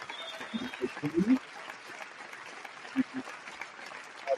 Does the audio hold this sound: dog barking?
no